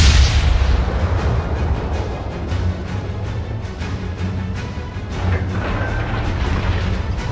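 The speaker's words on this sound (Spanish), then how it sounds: "Vamos a disparar" Heavy naval guns fire in a World of Warships sea battle, a dense run of booming blasts over a constant low rumble, loud and continuous for several seconds with no talk.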